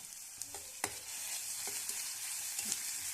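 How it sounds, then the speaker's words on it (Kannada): Goat brain frying with ginger garlic paste in a pan, a quiet continuous sizzle broken by several sharp scrapes and taps of stirring, close and without speech. "ಒಂದು ಅರ್ಧ ಚಮಚ ಶುಂಠಿ ಬೆಳ್ಳುಳ್ಳಿ ಪೇಸ್ಟ್ ಹಾಕಿ ಹಸಿ ವಾಸನೆ ಹೋಗೋವರೆಗೂ ಹುರಿಬೇಕು"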